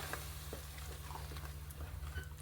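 Ground masala paste fries in oil with a bay leaf in a pan, a soft crackling sizzle broken by quiet scraping and stirring strokes, close and low in level, with a faint electrical hum underneath.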